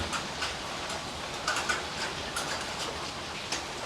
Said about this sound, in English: The passing traffic, especially the buses as you go into the town, creates the waves of water coming up from the road to contend with, as well as the rain coming down.